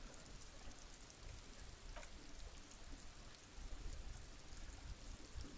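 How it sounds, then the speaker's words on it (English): Steady rain falls in the detective game Disco Elysium, a constant wash of drops with a low rumble beneath. The level holds even throughout and no one speaks. "talking about the rain when it is in fact raining"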